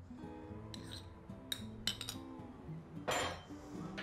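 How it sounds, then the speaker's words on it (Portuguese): A utensil mixing leek into ricotta cream in a bowl, faint soft stirring broken by a few light clinks of metal on the dish. "agora eu vou misturar aqui o alho poró"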